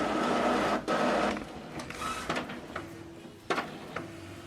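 An Epson WorkForce Pro WF-M4119DW printer runs its setup, with the ink carriage whirring and sliding into position, a close mechanical hum broken by clicks and clunks, then a quieter motor tone near the end.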